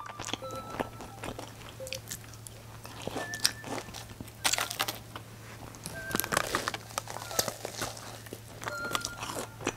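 Crunchy Mom's Touch cheese balls bitten and chewed up close, a run of sharp crisp crunches in irregular bursts over a low steady hum, with no talking.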